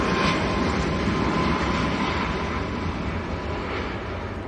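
A Ryanair Boeing 737 Max at Manchester Airport rolls for takeoff, a steady, loud, broadband engine roar that fills the whole stretch and eases slightly toward the end, with no voices.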